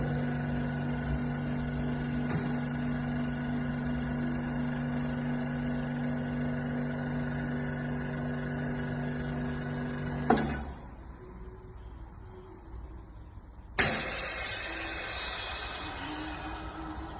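A CAS CVP 280 vacuum sealer runs with a steady, fairly quiet pump hum, cuts off abruptly partway through, then after a short pause releases with a sharp hiss as the lid pops open.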